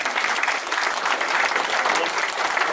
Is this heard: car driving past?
no